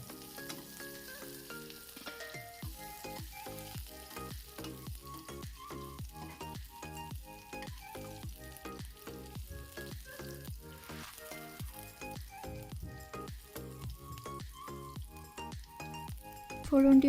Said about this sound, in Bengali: কড়াইয়ে তেল দিয়ে টুকরো করে রাখা পেঁয়াজ, তেজপাতা, শুকনো লঙ্কা আর গোটা জিরে দিয়ে ভালো করে ফোড়নটিকে ভেজে নিতে হবে